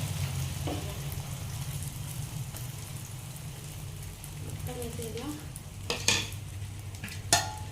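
An omelette fries in hot oil in a pan, a soft steady sizzle over a low background hum, with a few sharp utensil clinks toward the end.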